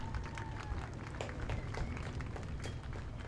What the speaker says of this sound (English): So give him a big, warm round of applause, ladies and gentlemen, DJ Oxford.